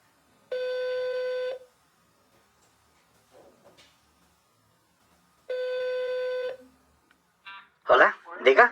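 A telephone call being placed gives two long, even ringback tones a few seconds apart with silence between, then a person starts talking at the end.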